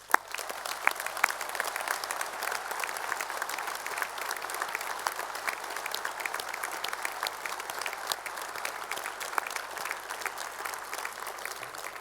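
An audience applauds warmly for police, gendarmerie and firefighter representatives at a mayor's New Year address in Voiron, a sustained, dense clapping that holds steady for the full duration.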